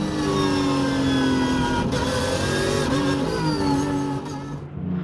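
Lamborghini Super Trofeo and Porsche race cars at Paul Ricard circuit, engines roaring loudly and continuously at high revs, with shifting engine tones as the cars race close together.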